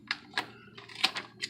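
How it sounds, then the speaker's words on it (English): Scissors trimming excess foam or fabric from Predator cosplay spats and shin guards, a series of about six sharp, close snipping clicks in an irregular rhythm, with no talking. "I'm just going to go ahead and trim off the excess on both sides"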